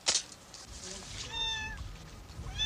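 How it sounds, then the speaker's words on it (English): A domestic cat meows twice, a short sharp knock first and then two clear, drawn-out tonal cries close by, set in a high Sierra mountain household. "The cat is yet another mouth to feed."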